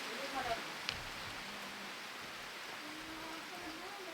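Rain falls steadily all day, a soft, even hiss from start to finish with faint voices and a few small knocks underneath.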